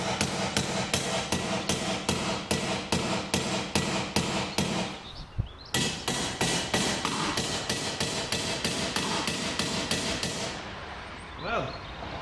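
A hammer strikes a car wiper arm again and again to free it, a fast, steady run of sharp, loud taps, then a short pause, another even burst, and a few fainter knocks at the end.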